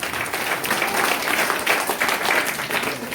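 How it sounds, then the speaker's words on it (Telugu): An audience at a Christmas celebration in a prayer house applauds with steady, dense clapping that holds at an even level for about three seconds. "గట్టిగా క్లాప్స్ కొడదాం."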